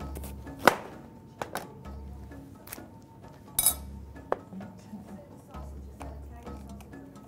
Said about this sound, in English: while I'm chopping the green pepper